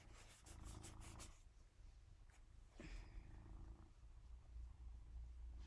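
A pet cat purrs steadily and close by for several seconds, a low continuous rumble with a soft rubbing or rustling of pink fabric lining nearby.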